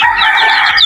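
A Kanawayan rooster, a white streamer line, crows once up close, a loud, bright, strained call that fills the whole brief moment.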